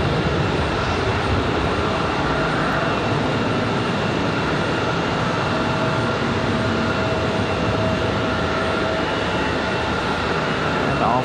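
A Republic Airways regional jet takes off from Raleigh-Durham International, its engines a constant, powerful rushing roar that stays loud and even from start to finish.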